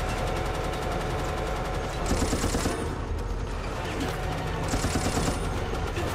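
Assault rifle fire in the video game Resident Evil: Operation Raccoon City, dense, continuous bursts of shots that pound steadily throughout, layered with other gunfire and game noise.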